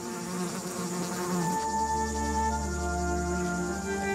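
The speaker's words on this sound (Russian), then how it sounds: "Когда новорожденные мухи улетают, они оставляют лишь голые кости и мех." Flies buzzing steadily over Greek countryside, a continuous droning hum with several wingbeat tones layered together, close and fairly loud, with no voices.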